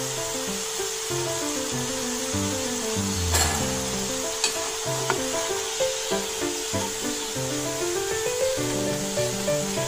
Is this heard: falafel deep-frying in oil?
yes